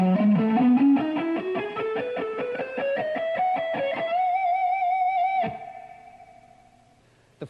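Third part of a riff on distorted electric guitar: a quick run of rising picked notes settles into a held high note that rings out and fades to near silence.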